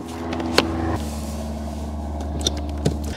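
A 2013 Toyota RAV4 is switched on with the ignition, a steady low hum from the vehicle with a few short clicks and ticks over it, close by.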